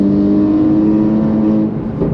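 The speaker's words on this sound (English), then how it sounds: "it's still got some pretty wicked rasp right around 2K RPM" Loud, close engine drone from a BMW M4 GTS with a titanium exhaust, catless downpipes and an equal-length mid pipe, holding a steady raspy tone around 2,000 RPM before dipping slightly at the end.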